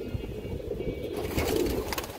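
Indian highflyer pigeons, a Sapchila pair, cooing close by in a steady low murmur that carries through the whole stretch, with a slightly louder swell near the end and no voices.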